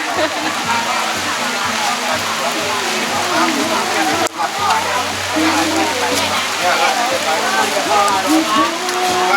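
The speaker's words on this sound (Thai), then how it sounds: "ฝนตกค่ะ ตอนนี้ฝนตก" Heavy rain pours steadily at an outdoor plant market at Khao Chi On, Sattahip, a dense continuous hiss and patter throughout, with voices faintly under it.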